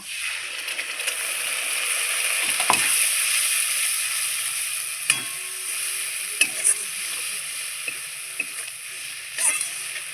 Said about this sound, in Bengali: এবার আমি ভাজা পেঁয়াজের উপরে মশলাটা দিয়ে দিব